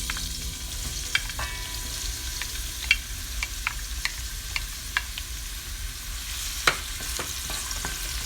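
Chopped onion sizzles steadily in hot oil in a pan, with a few sharp clicks and scrapes of a utensil stirring through the frying, close and alone.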